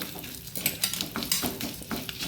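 Dried chili peppers frying with asafoetida in hot oil in a pan, a busy crackling sizzle broken by rhythmic scraping and stirring clicks of a utensil against the metal, close and steady with no voices.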